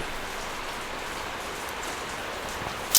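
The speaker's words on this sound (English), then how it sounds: "It's raining, so I hope that's not coming through." Steady rain falls outside during a painting contractor lesson, a dense, even hiss of drops on surfaces that runs unbroken throughout, swelling slightly at the very end, with no talking.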